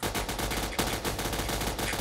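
Rapid automatic gunfire from the Crafting Dead game, a dense string of close, loud shots firing in quick succession with a brief stutter partway through.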